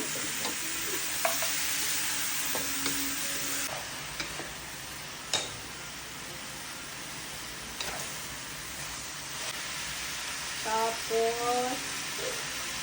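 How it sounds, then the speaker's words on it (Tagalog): Meat fries in a pan with a steady bright sizzle throughout, joined by a few sharp utensil clicks and light scraping. "ilagay mo na yung karne"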